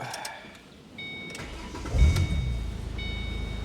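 A Ford Mustang engine starts: a faint click, then the starter cranks briefly and the motor catches with a loud low burst. It settles into a steady, close idle rumble.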